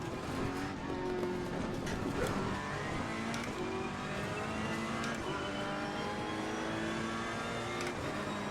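A continuous race car engine drone with shifting whining tones, steady and fairly loud throughout, like an in-game car lapping a track in Gran Turismo Sport or Assetto Corsa Competizione.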